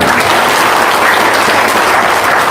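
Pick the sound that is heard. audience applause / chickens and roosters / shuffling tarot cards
audience applause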